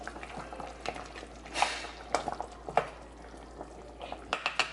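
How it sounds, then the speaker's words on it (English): Food boiling in a pot on a stovetop during a keto dinner, a soft steady bubbling broken by scattered clinks and scrapes of stirring. "They're still boiling"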